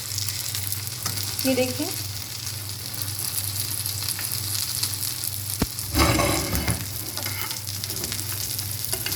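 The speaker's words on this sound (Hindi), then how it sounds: "हमारा अंडा एक साइड से पक चुके हैं। अब हम इसकी साइड चेंज कर देंगे।" Egg frying in a pan with a steady, close sizzle, then a brief clatter and a louder burst of crackling as it is flipped onto its other side.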